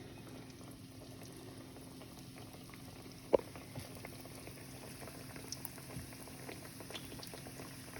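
Fry bread dough frying in hot oil, a faint, continuous bubbling sizzle with a sharp pop near the middle and scattered light crackles.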